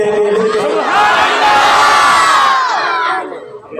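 A large crowd, with many children's voices, shouts a loud unison religious response at a naat recitation in one sustained, swelling call before it fades out.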